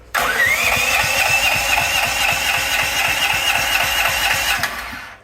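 A DuroMax 13000EH generator engine cranks and catches, then runs at a loud, steady mid-pitched roar for several seconds before easing slightly at the end.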